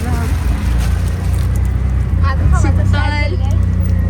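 Riding in an auto-rickshaw through the streets toward Dharavi, Mumbai, with a steady low engine drone and road rumble throughout and people talking over it.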